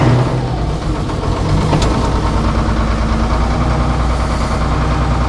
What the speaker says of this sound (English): we're going to fire up the bus motor here.